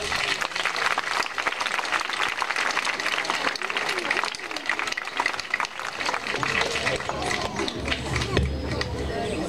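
Audience at a children's school show in Montfort-sur-Argens clapping for a young choir, a dense, steady wash of applause with crowd chatter mixed in throughout.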